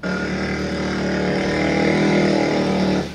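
A motorcycle with a modified aftermarket exhaust pipe revs loudly and steadily in a narrow alley at night, a continuous rough engine roar that cuts off abruptly.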